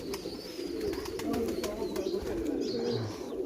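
Low, steady cooing of a pigeon held in hand, a soft murmuring hum running continuously through the clip, close by, with faint background chatter and no clear talk.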